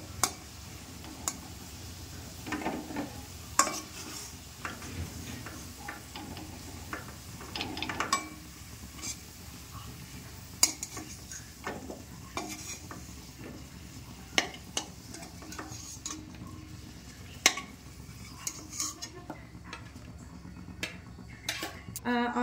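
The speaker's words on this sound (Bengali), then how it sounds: "এবার আমি এটা আস্তে আস্তে প্লেটে তুলে নেব।" Fried potatoes are scraped from a pan and set onto a plate, with repeated close clinks and scrapes of a utensil against metal and crockery over a faint sizzle, irregular and unhurried, with occasional quiet voice.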